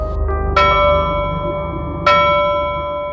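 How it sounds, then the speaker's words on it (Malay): Two resonant bell strikes about a second and a half apart, each ringing out with long sustained overtones that slowly fade. "Kedengaran bunyi loceng."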